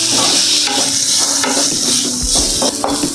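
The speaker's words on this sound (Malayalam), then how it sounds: "ഈ തക്കാളി ഇതിൽ ചേർന്ന് ഒന്ന് വഴന്ന് വരണം." Chopped tomatoes sauté in a pan for a vegetable curry, a close, loud sizzle broken by scraping stirs and light clinks of a spoon against the pan, with no talking.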